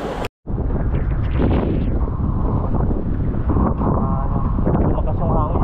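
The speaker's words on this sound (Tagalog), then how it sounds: "Malakas ang hangin." Strong wind on a fishing boat off Casiguran, Aurora buffets the microphone in a loud, continuous roaring rush after a brief cut, with a voice speaking faintly underneath.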